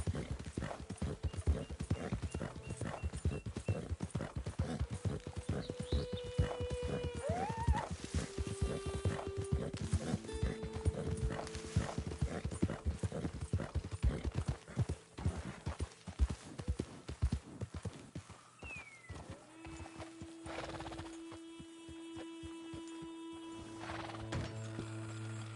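Rhythmic horse hoofbeats in Red Dead Redemption 2 clip-clop steadily with occasional whinnies and snorts, set against game background sounds, then fade to a quieter hum near the end.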